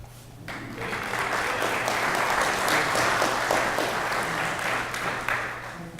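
A large conference audience bursts into sustained applause as a speaker is welcomed onto the stage, steady dense clapping that starts suddenly and holds loud for several seconds.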